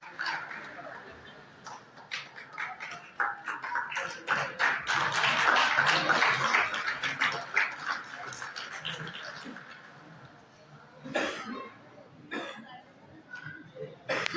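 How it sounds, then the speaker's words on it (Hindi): A crowd at a devotional gathering in Chhattisgarh claps loudly, the dense patter swelling to a peak midway and then thinning, with scattered claps and voices continuing toward the end. "जोरदार तालियों का अभिनंदन"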